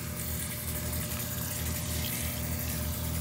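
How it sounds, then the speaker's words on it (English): Hands being rinsed under a running tap after lathering with soap, a steady close gush of water splashing continuously without pause. "I'm going to rinse my hands thoroughly like this."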